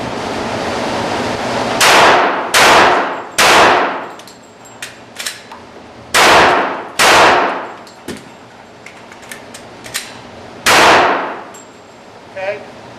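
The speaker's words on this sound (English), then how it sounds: "you can see I fired the gun until the gun didn't fire" A pistol fires several loud, close shots in quick pairs and singles until it fails to fire, followed by metallic clicks and clacks as the slide is racked.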